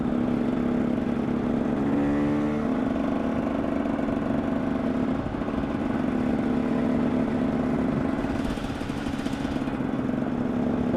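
A KTM 300 EXC two-stroke supermoto engine runs steadily throughout while riding, a loud close drone with a brief rising rev partway through and no voices.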